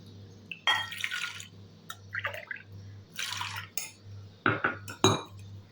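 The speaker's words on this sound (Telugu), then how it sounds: "వాష్ చేసుకున్న శనగపప్పులోకి 2 కప్పుల నీళ్లు పోసి" Two cups of water poured into washed chana dal in a kitchen bowl, heard as several short splashing bursts with brief pauses and a few light clinks, close and moderately loud over a low steady hum.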